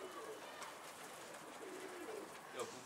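A pigeon or dove coos softly and intermittently at a distance, low murmuring calls set against faint background noise, with a slightly louder call near the end.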